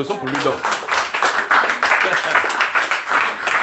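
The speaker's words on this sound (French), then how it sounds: "applaudissons pour lui donc" Clapping from a church congregation with voices mixed in, rhythmic bursts of hands rising and falling over a few seconds.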